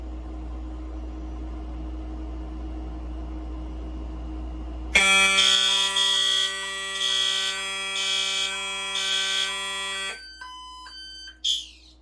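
A Silent Knight 6808 fire alarm panel set off by a heat detector during a system test sounds a loud, steady electronic alarm tone that starts abruptly after a low hum, pulses in a regular pattern, then breaks into shorter beeps near the end.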